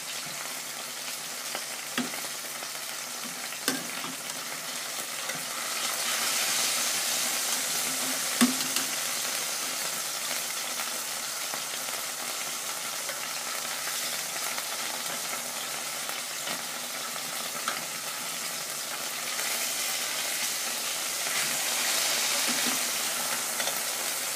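Steak frying in a pan throughout a long stretch, a steady close sizzle with scattered clicks and scrapes as the meat is moved or turned, swelling a little louder partway through, with no voices.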